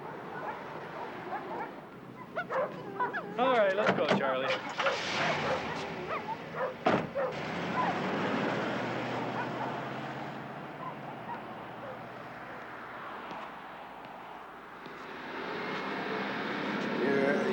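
Several dogs at an animal shelter bark and yip in a burst near the start, then fade into a low background hum while people talk over it.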